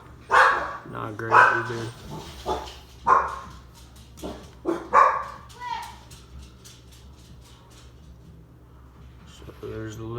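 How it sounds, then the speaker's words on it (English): Several dogs bark excitedly in a burst of loud, sharp yaps over the first half, then fade, with a person talking underneath and afterward. "Sorry, my dogs are going crazy."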